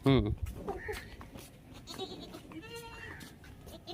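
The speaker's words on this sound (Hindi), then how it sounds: "दो बकरियां भी हैं ते और बकरियां और बकरे।" Goats held for sacrifice give a brief bleat at the start, loud and close, followed by a faint wavering bleat later, while people talk over the animals.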